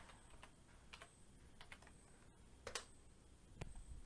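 Keys on a computer keyboard are tapped in a quick, uneven run of crisp clicks, close but quiet, with no talking.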